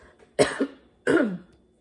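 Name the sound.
fake cough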